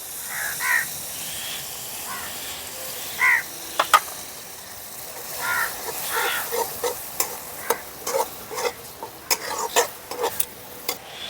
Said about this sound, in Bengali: এই পর্যায়ে আমি দিয়ে দেবো আদা রসুন পেস্ট।